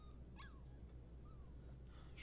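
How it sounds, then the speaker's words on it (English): A dog whimpers and whines faintly in the video game Life is Strange 2, a few thin high cries over a steady low background hum. "It's frickin' Daniel's dog"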